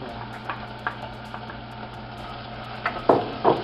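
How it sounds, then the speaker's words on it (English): A fully chopped onion sizzles in heated oil in a pan, a steady low fry broken by occasional stirring scrapes and clinks that grow louder near the end. "So we have to fry this onion for like around 5 minutes."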